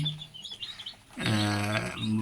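High, thin chirps from Color Bird breed chicks on a small poultry farm peep in quick bursts, followed by a lower, fuller clucking call that carries the second half, loud and near.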